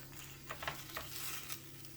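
Roasted red peppers coated in oil being turned in a baking tray, with faint sizzling under a few soft scraping and shuffling touches, quiet and close with no talk.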